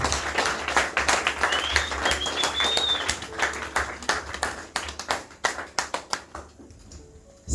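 A church congregation claps together during a service, sounding as a loose run of hand claps that rises, keeps going and fades into scattered claps near the end, with faint voices in the background.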